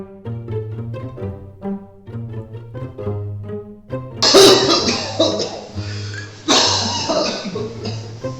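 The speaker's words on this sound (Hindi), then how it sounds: "खांसी आ रही है" A patient at a doctor's consultation gives a couple of harsh, noisy coughs midway, cutting in over soft melodic background music.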